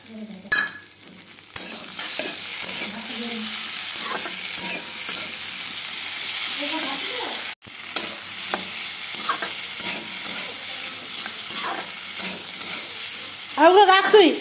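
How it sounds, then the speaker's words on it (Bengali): Potatoes fry in a pan for aloo dum with a steady, close sizzle and occasional scrapes of a stirring spoon, a brief cut partway through, and a voice speaking near the end. "এই যে আলুটা ভাজা ভাজা হয়ে আসছে দেখো"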